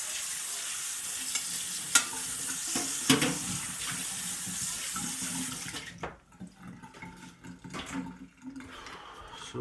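Tap water runs hard into a container in a home kitchen sink, a steady bright rush broken by a couple of knocks, then splashes and sloshes as it is swirled and rinsed out.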